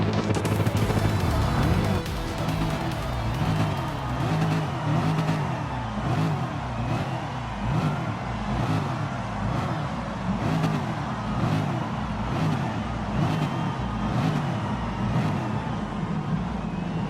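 A race car engine in Gran Turismo Sport revs in repeated rising and falling sweeps, a steady cycle of loud, close accelerations and gear changes that continues throughout.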